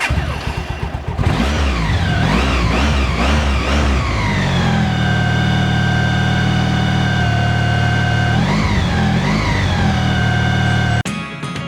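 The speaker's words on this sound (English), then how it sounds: "let's see if I can get the bike started" A Honda Pan European motorcycle engine cranks and catches, revving in a few loud, rising bursts before settling into a steady close idle, then blipping the throttle twice more near the end.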